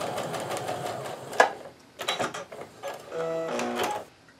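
Home sewing machine stitching a flying geese block for a patriotic quilt, heard in several short bursts of mechanical whirring with pauses between, close and moderately loud, with no talking.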